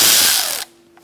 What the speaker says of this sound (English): We're going to take out our Torx bit screws.